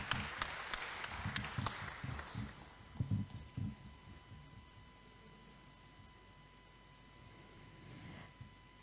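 Audience clapping at the launch of a solar entrepreneur development centre in Surabaya, a short, fairly faint burst that fades within a few seconds, leaving a quiet room with a steady hum and low murmurs.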